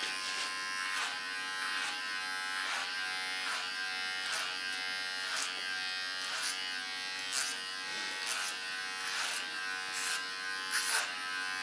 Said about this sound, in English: Don't lean too hard on the clipper